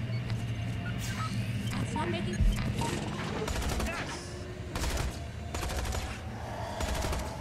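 In the video game Tales From The Borderlands, gunfire erupts in repeated rattling bursts separated by short pauses, over a low engine-like rumble.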